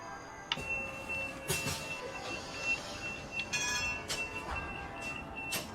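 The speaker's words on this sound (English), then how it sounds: "This tram is for Metro Centre Park." Tram running in a video game, a steady rolling rail rumble with faint wheel squeal and occasional metallic clanks and tones throughout, moderately quiet and continuous.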